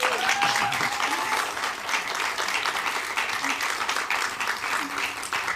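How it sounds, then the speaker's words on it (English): A lecture audience applauds steadily for several seconds at the 2024 Payne Lecture, a dense, even wash of clapping that fills the room, with a few voices faintly mixed in. "We can clap it up again."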